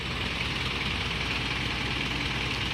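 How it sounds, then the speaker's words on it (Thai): A Ford tractor engine idling steadily, a dense continuous low rumble with a constant, even level and no talk over it. "นี่รถไถฟอร์ดนี่"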